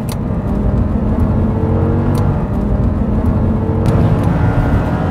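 A GT race car laps the Zolder circuit in Belgium during a Blancpain Sprint Series outing, its engine a loud, steady onboard drone with a sustained whirring tone and no voices.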